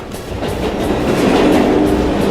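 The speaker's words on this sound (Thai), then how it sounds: "เวลารถไฟผ่านมา มันจะมีโอกาสที่ตัวนี้ปรากฏมาด้วยนะ" Subway train in the Roblox horror game The Intruder rolls past with a loud, steady rumble and rhythmic clatter of wheels, the noise swelling slightly as it goes by.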